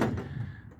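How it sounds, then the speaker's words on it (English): The sliding side door of a 2017 Hymer Activ RV van rolls open in one brief, close, rumbling slide. "Alright, so you get the sliding door open."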